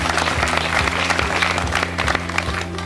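An audience applauds before a film screening, loud and close, with a continuous dense wash of clapping that holds steady throughout.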